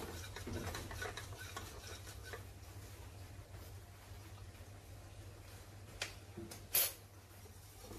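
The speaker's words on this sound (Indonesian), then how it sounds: "Kita aduk dulu sampai rata." A spoon stirs cake batter flavoured with pandan paste and liquid vanilla for putu ayu, making quiet scraping, swishing strokes against the bowl, with a couple of sharper knocks near the end.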